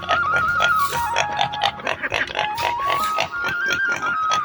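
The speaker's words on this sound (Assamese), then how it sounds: "এতিয়া গাহৰি পোৱালিটো দানা দিব আহিছোঁ।" A piglet squeals and grunts insistently at feeding time on a village farm, with loud, close, wavering cries repeating throughout and no speech.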